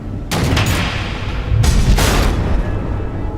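Missile blasts in the video game Batman: The Enemy Within, two heavy booming explosions in quick succession, loud and close, each with a rumbling low tail that lingers between them.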